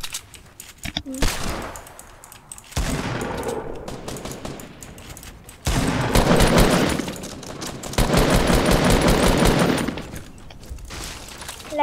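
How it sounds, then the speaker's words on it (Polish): Heavy overlapping gunfire from many players in a shooter video game, with bursts of automatic fire and rapid shots coming in loud waves with only short lulls. "za dużo osób tutaj strzela."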